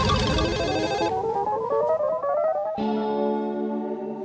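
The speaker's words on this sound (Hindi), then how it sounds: "देख जा रही घंटी जा रही।" A telephone ring tone plays loudly and alone, a warbling electronic ringback that slides upward, then changes abruptly to a different steady tone near the end.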